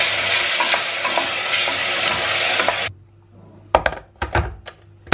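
Chopped chicken sizzles loudly in a hot pan, then the frying noise drops away and a few close, hollow thunks and scrapes follow as tomato paste is added and stirred in.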